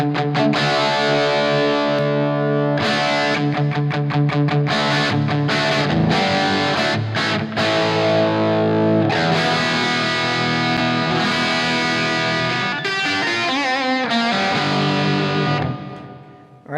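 Distorted electric guitar plays through a Vic Johnson Jose amp with the jump turned out, chugging chords and stabs with choppy muted gaps, then a sustained ringing chord that fades out.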